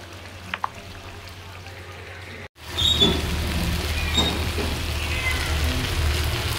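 Fish curry with eggplant sizzles and fries in a pan, a soft crackle that bursts louder after a brief hush, with stirring and faint scrapes throughout.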